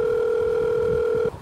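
A telephone gives a single steady electronic tone that holds for just over a second, then cuts off abruptly.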